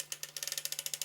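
A sock knitting machine cranked through rows of waste yarn, giving a quick, steady run of sharp ratcheting clicks, close and clear, with a faint constant hum underneath.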